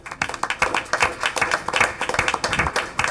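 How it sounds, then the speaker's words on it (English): Audience at a school board meeting applauding graduating seniors: dense, close, sustained clapping from many hands for about three seconds, no speech over it. "please join me in giving our seniors a big round of applause."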